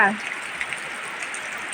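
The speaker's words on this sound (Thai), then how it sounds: "น้ำฝนค่ะ" Steady rain hisses down onto water in a dense, even patter, with no pauses or voices.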